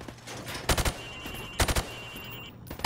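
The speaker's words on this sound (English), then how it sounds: "Now, shoot at the targets while firing from the hip." Rifle shots fired from the hip on a Call of Duty shooting range, in two quick bursts of three to four sharp cracks each, with a further shot at the end.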